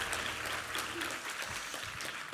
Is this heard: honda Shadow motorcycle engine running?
no